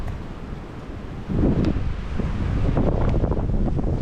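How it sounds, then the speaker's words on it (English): Wind gusts roar and buffet the microphone, growing louder and rougher after a brief lull, with a low rumbling undertone and no voices. "and there's the wind."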